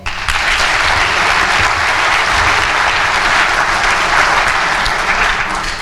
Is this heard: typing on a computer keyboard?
no